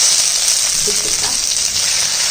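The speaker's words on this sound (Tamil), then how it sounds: "இப்போ கட் பண்ண வெண்டைக்காவை நம்ம இதில் போட்டுக்கலாம்." Chopped okra frying in hot oil in a kadai gives a loud, steady hiss and crackle that fills the clip with no pause, and no one speaks over it.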